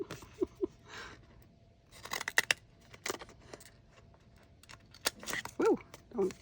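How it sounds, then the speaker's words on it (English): Twenty-year-old scissors cutting paper wedding place cards, with clustered snips and paper rustles coming in uneven bursts, close by, and a brief vocal sound near the end. "20-year-old scissors can be up to the task."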